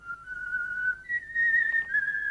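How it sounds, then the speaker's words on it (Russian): A man whistles a cheerful tune, clear sustained notes in a few short phrases with small pauses between, close and alone against a quiet background. "Где вы научились так свистеть?"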